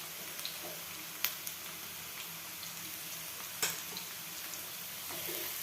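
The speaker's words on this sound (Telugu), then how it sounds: "చూసారు కదా, మన ఆనియన్స్ వేగిపోతున్నాయి." Onions fry in a pan with a steady, soft sizzle and crackle, and a few faint clicks come through close by, with no talk.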